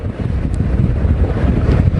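Loud, constant roar of wind buffeting the microphone with churning waves on the Indian River, the Intracoastal Waterway at Port St. Lucie, during Hurricane Dorian, a dense low rumble with no pauses.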